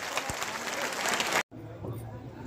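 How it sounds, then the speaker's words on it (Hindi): An audience at a youth conference claps to welcome a Union minister, a steady wash of crowd applause that cuts out abruptly, followed by quieter room noise. "दोनों हाथ उठा के तालियां बजा लें।"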